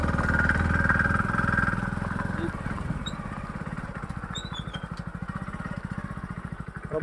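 A motorcycle engine runs close by on a hill road near Mallikarjuna Swami hill temple in Ranebennur, Karnataka, its steady rumble turning to a rapid, even putter in the second half, with no talk over it.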